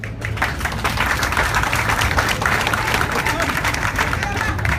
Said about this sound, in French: Ce monsieur mérite qu'on puisse applaudir une seconde fois pour lui